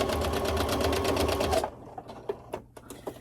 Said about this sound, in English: We're doing a 1/4 inch seam, which I kind of just have it set up with my presser foot and I eyeball it.